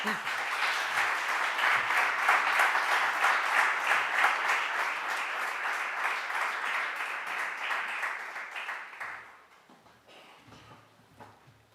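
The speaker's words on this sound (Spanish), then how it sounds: "Un aplauso para él" Sustained audience applause fills a conference hall after an inaugural lecture at a congress, loud and dense for about nine seconds before thinning out into scattered claps and quiet room noise.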